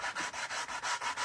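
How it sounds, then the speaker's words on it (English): Rhythmic back-and-forth scratching of sandpaper on the edges of wooden furniture, about seven even strokes in quick succession, close and fairly quiet. "you guys know I like to do my sanding on the edges here"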